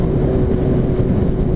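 Kawasaki ZRX motorcycle ridden on the road near downtown Charlotte ahead of a dark storm, a steady close engine drone with rushing wind noise throughout, no voices.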